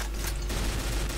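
Enemy gunfire in Doom's TNT: Evilution, a dense, continuous burst of rapid shots holding loud and steady throughout, with no talking over it.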